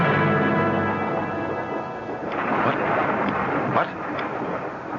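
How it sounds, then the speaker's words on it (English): Radio-drama thunderstorm: a heavy rolling rumble of thunder with rain noise, swelling and cracking again midway, loud and continuous without voices. "It's only the storm, dear."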